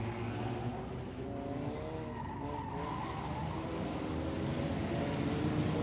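Race cars circle a racing track in a continuous close engine roar with shifting pitch, loud throughout and with no talking.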